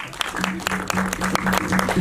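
Applause breaks out at a film press conference, a burst of clapping under continued amplified talk and a steady electrical hum.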